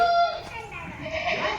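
Kathiyawadi goats bleating at a busy goat market, a wavering bleat rising over background chatter and nearby voices.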